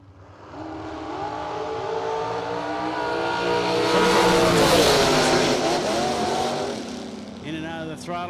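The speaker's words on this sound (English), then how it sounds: "In and out of the throttle, big end of the racetrack goes Snellgrove." Drag race cars roar down the strip at a memorial drag race, engines building to a loud full-throttle peak mid-clip before easing off, with an announcer's voice running over the engine noise throughout.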